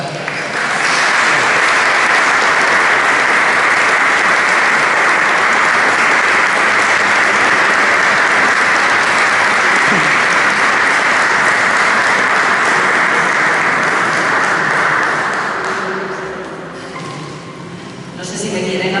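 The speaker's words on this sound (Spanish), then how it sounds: "darles un aplauso por la iniciativa" An audience claps loudly and steadily in sustained applause after a talk, the clapping dense and continuous before thinning out near the end.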